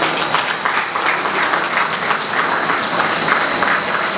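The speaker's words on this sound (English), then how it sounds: "Women, you can clap for her now." Sustained audience applause at an award ceremony following a keynote on gas flaring, a dense, steady clapping from a large crowd that fills the whole stretch without pause.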